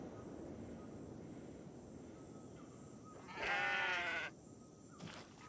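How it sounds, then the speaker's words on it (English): A sheep or goat in the video game Kenshi gives one clear, wavering bleat of about a second, rising over a steady low rumble of ambient game noise. "They're killing the sheep. They're killing the goats."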